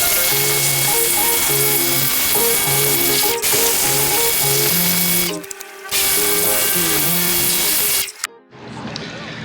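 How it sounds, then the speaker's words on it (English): A pressure washer sprays down used car control arms for a 1980s-era Mazda FC3S RX-7, a loud steady hiss over background music, broken by two brief pauses when the spray stops and restarts. "give these a quick power wash treatment just to get them looking a little bit better"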